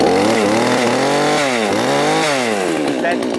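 A chainsaw that smokes and burns its fuel poorly at idle revs up loudly and close, its engine pitch sweeping up and down in repeated surges throughout.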